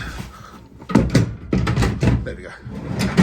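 A wooden drawer made for a boat's galley cabinet slides in and bumps home several times, giving short scraping thuds at close range while someone talks.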